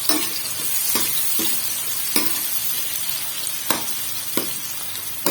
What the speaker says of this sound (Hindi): ये हम डालते अनियन, प्याज